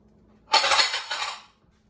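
A microwave-safe dish is set down with a brief clattering clink of ceramic, loud and close, then fades to silence.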